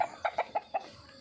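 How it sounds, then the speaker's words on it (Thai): A chicken clucks several times in quick short bursts, close by and fairly quiet, with no talking. "นี่แต่ไก่นะครับ"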